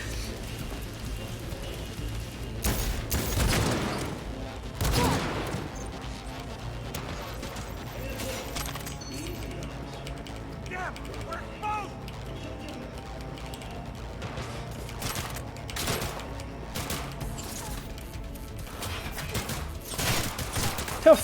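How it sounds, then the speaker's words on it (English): Sporadic gunfire in Cyberpunk 2077, scattered sharp shots and short bursts spread over a stretch of mechanical game noise, some close and loud, others fainter, with occasional talk. "Who the hell is shooting me?"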